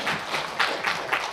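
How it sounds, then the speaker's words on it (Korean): Brief burst of audience applause at a Korean film-week talk with a documentary director and writer, dense and continuous with a few louder swells, heard on its own without speech. "우리 박수 한번 칠까요?"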